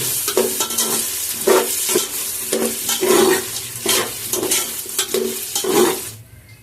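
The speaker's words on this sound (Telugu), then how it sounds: "అల్లం వెల్లుల్లి పేస్ట్ కూడా వేగే వరకు మనం కలుపుకోవాలి" Ginger garlic paste frying in a pot for a veg biryani, stirred in regular scraping strokes roughly every half second over a wet sizzle, loud and close, stopping abruptly near the end.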